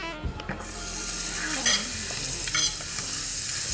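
Butter melts and sizzles in a hot skillet before the eggs go in for an omelette, a steady bright hiss that starts after a brief clatter and continues alone.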